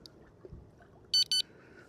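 A carp fishing bite alarm at a large reservoir gives two short, bright electronic beeps in quick succession over quiet outdoor background noise.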